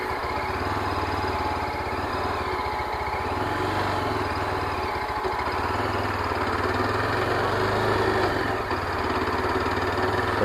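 A Yezdi Adventure motorcycle engine runs steadily at low speed during slow-riding practice, a constant close mechanical drone with little change in pitch or level throughout.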